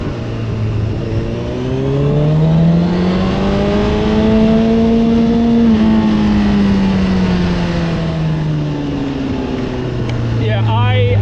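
A Honda CB1000R motorcycle engine revs up hard under acceleration, its loud, close howl climbing steadily in pitch, holding near the top, then falling back as the rider eases off, with rushing wind throughout.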